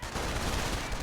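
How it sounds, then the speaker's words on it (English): Continuous rattle of rifle squad gunfire in the World War II strategy game Company of Heroes, dense and loud throughout a brief burst with no pauses. "Rifle squad taking fire!"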